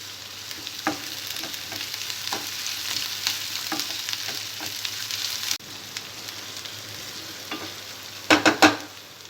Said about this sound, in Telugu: ఫ్రై అవుతున్న ఉల్లిపాయ ముక్కల్లో పచ్చిమిరపకాయ, కరివేపాకు, కొద్దిగా అల్లం వెల్లుల్లి పేస్ట్ వేసుకోవాలి